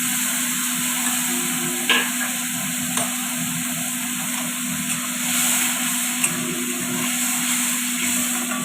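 Tomatoes fry in oil with a steady, close sizzle and crackle, a constant background hum, and a few sharp clinks from a spoon or pan; no talking.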